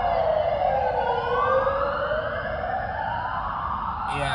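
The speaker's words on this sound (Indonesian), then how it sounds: "Wah, ini berisik sekali, ada ambulans ya." An ambulance siren passing along a street on a drive between Sydney and Brisbane wails loudly in long rising and falling sweeps over a steady rumble of road traffic.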